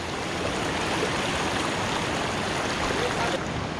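River water rushing over rocks in hilly terrain near Satpuli, a dense, steady broadband roar with no breaks, close and fairly loud.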